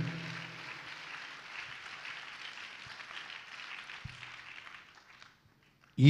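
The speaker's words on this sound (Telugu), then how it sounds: "చప్పట్లు కొట్టి దేవుని మహిమపరుద్దాం గంభీరంగా." A church congregation claps together in a steady, even patter of applause that carries for about five seconds, then fades out into near silence.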